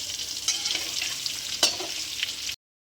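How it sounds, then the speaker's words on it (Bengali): Spices and turmeric fry in a pan for mutton biryani while being stirred, giving a bright hissing sizzle with a few scraping strokes and clicks. The sound stops abruptly near the end. "হালকা করে নেড়ে দিলাম।"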